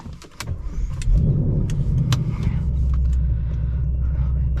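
A supercharged Ford Mustang Mach 1 engine with a stage 2 ProCharger and factory exhaust and mid-pipe rumbles steadily at close range, with a few sharp clicks and knocks early on before the low drone settles in.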